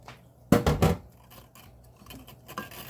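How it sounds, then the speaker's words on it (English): Four cups of Concord grapes tumble into a saucepan in one quick clattering burst near the start, followed by fainter knocks and handling sounds. "Now to my saucepan, I am going to add the 4 cups of grapes."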